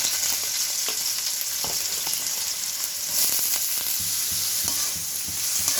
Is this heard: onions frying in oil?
yes